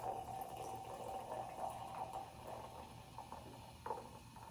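Sprite soda is poured, a steady liquid stream and fizz running for several seconds, with faint clinks, at moderate level and no speech.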